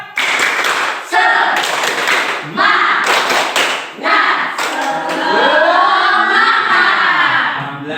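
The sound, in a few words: class doing a rhythmic 'tepuk semangat' clapping chant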